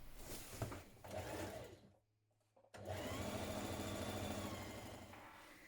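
A sewing machine stitches the underarm seam of a sleeveless shirt, a steady motor whir with needle chatter, pausing briefly near the middle before running on again at an even pace.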